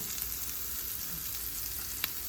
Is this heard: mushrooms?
yes